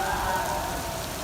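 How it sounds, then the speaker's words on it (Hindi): Rain falls steadily on the city of Multan, a continuous soft hiss of drops heard from indoors, with a faint tonal hum running underneath throughout. "इस वक्त बारिश हो रही है शहर में और देखते होंगे बारिश की बूंदें नीचे गिर रही हैं"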